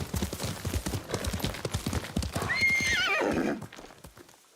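A video game horse's hooves clip-clop in a quick, even rhythm, followed by a clear, loud whinny that sweeps down and fades near the end.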